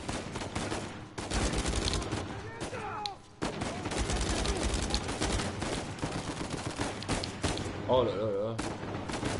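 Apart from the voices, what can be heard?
gunfire from all sides in the video game Uncharted 4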